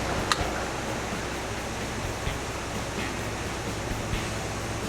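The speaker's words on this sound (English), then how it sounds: "Water is coming in." Water rushes steadily into a canal lock around a narrowboat, a constant broadband roar with no breaks and a few faint ticks on top.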